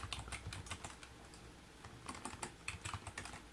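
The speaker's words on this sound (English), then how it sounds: "Let's start by typing" Steady rapid typing on a computer keyboard, close by, with a continuous patter of key clicks and a low hum underneath.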